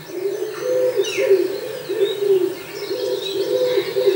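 Birds in a spring forest beside Chambord castle at dawn: a steady run of soft, low cooing phrases with a few thin chirps scattered above, moderately near and with no voices.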